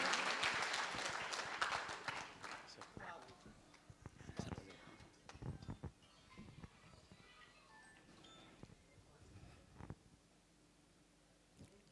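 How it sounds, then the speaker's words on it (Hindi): Audience applause at a Hindi kavi sammelan poetry festival in Hapur, a loud burst of crowd clapping that gradually thins into scattered claps and rustling. "एक बार जोरदार तालियां उनके लिए आपकी होनी चाहिए।"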